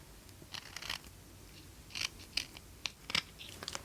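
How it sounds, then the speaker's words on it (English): Scissors trim the border off a piece of paper for a shabby chic flipbook, giving several close, crisp snips in uneven clusters separated by brief pauses. "I'm gonna kind of trim off the sides here so I can just get that piece that I like out of it"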